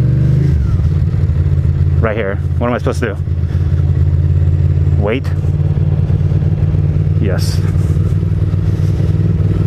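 Motorcycle engine idling steadily in stopped New York City traffic, a continuous low rumble with brief throttle blips, close by while people talk over it.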